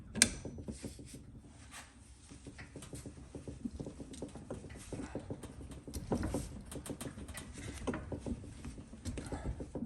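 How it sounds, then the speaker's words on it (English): A hand-cranked tool with a deeper cup turning to seat a control arm part on a 2005 Ford Five Hundred, giving a quiet, continuous run of small ratcheting clicks and mechanical patter close by. "I'm putting a deeper cup on, and I'm gonna crank it over by hand."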